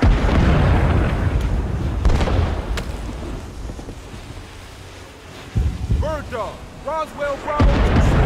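An artillery fire mission strike in the Vietnam War game Rising Storm 2: Vietnam, with loud, deep booming impacts and rumbling blasts, wind noise throughout and brief shouted voices near the end.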